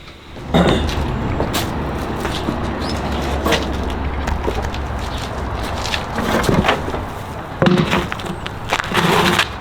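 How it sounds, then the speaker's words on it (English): A tire drags over the ground during a runner's tire pull training, a continuous loud rough scraping rumble with irregular bursts of grinding and knocks. "let's go do our tire pulls"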